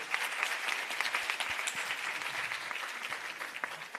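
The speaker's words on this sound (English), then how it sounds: "Can we give that a round of applause one more time?" Audience at a G20 research and innovation side event gives a steady round of applause. Dense, even clapping continues throughout, with a few sharper claps standing out.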